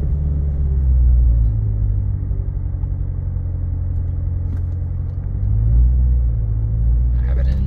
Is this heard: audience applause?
no